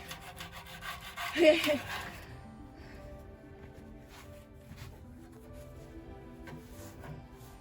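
Scrubbing on the bodywork of a classic Morgan sports car, a close rubbing scrape that swells into a louder burst early on, then settles into softer intermittent rubbing with faint background noise.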